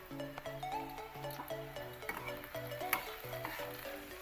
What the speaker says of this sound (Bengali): ফোড়ন দেওয়া হবে এখন